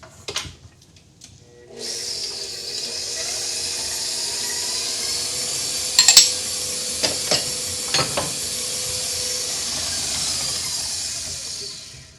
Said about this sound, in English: we are going to beat the butter